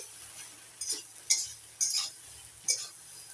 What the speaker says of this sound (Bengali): নাড়াচাড়া করে কষিয়ে নিচ্ছি